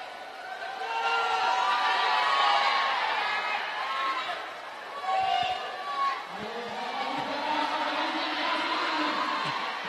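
Spectators at a roller derby bout cheer and shout in a loud, continuous crowd roar with rising whoops, while voices chatter throughout.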